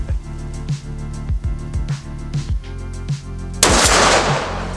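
A machine gun mounted on a robot dog fires several loud, close single shots with a steady rhythm, then lets off a sustained burst of blast and hiss. Nobody speaks.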